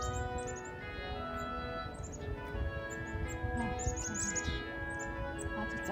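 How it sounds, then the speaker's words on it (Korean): A flock of very small birds, smaller than sparrows, in a windy forest during flower viewing, giving scattered high thin chirps and twitters in clusters over steady low background noise. "아주 작은 새들이 여러 마리 있네."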